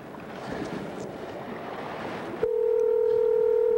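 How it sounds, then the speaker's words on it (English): A telephone keypad tone sounds as one steady, clear beep held for over a second, cutting in abruptly after a stretch of rushing background noise. "I'm making phone calls here."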